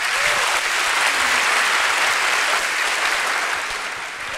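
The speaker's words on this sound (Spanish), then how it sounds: "un fuerte aplauso para Dorado de Sol" A crowd claps loudly and continuously for a few seconds, the applause tapering slightly at the end.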